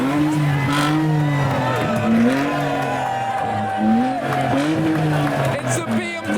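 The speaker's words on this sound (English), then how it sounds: "a Ferrari." A Ferrari drives past at the Le Mans 24 Hours, its engine note rising and falling steadily and close by, with people talking over the sound.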